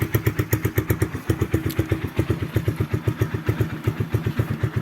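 A Geon Scrambler 250 motorcycle with about 4,000 km on it idles close by, its single-cylinder engine thumping in a steady, fast, even rhythm throughout with no talk over it.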